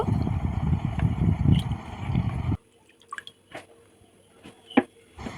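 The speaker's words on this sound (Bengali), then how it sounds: "এখন একটি পাত্রের মধ্যে জল নিয়েছি এবং এই চারটি টুকরো ভালো করে ধুয়ে নেব" Snake gourd pieces being washed in a bowl of water: a dense wet sloshing and squishing for a couple of seconds, then quiet with a few soft drips and light taps close by.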